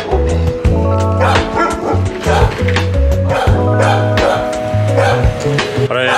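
Several dogs bark and yip insistently on Cozumel Island, Mexico, loud and close, with overlapping barks and whines running continuously throughout.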